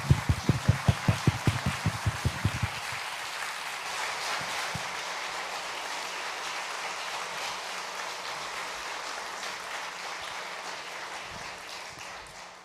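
Congregation at a Korean Wednesday night church service applauds to congratulate pastors: about a dozen loud rhythmic claps in unison, then a sustained wash of scattered clapping that slowly fades.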